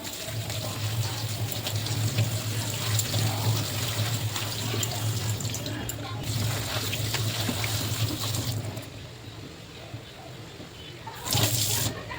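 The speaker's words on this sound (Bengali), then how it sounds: "আমি এই সবজিগুলো ধুয়ে মাকে দিয়ে আসছি" Tap water runs steadily into a sink while vegetables are washed, a continuous close trickling and splashing that carries on for most of the stretch, with a brief louder gush near the end.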